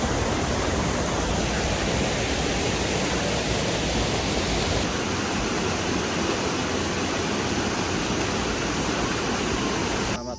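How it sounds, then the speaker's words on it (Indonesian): A river stream crossed on a hiking trail toward Puncak Ciguntur, near the Curug Lewi Biru waterfall at Sukamakmur, rushes in a loud, continuous close wash of water that stays steady throughout. "Lewatin aliran sungai."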